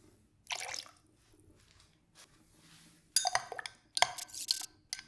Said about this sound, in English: Add half an ounce of the freshly squeezed lime juice